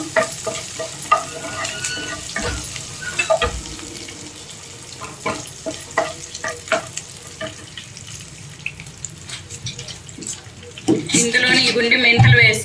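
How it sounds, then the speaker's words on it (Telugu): Crushed garlic cloves frying in a pan while being stirred, medium heat, with intermittent scraping and clatter of a spoon over a low sizzle and a brief burst of running tap water near the end. "వెల్లుల్లి రెబ్బలు. ఇవైతే మంచిగా వేయించుకోవాలండి"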